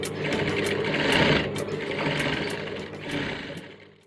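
Sewing machine gathering fabric with elastic thread in the bobbin, running in a steady continuous whir with two brief dips where it slows, fairly close, no voices.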